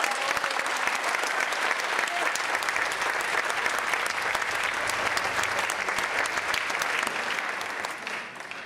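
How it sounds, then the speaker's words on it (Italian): Audience applause at an outdoor music festival choir concert, a dense, steady wash of many hands clapping that holds for several seconds before tapering slightly at the end. "Un bel applauso e poi..."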